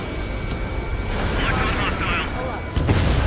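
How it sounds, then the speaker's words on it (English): An Ace Combat 7 missile strikes its target with a low, rumbling blast under steady jet and wind roar, followed by a sharper boom near the end while radio voices talk over it. "Missile hit."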